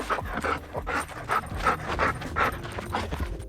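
A dog pants rapidly and rhythmically while playing, with quick breathy huffs close to the listener and no voices.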